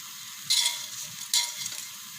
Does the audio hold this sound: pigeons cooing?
no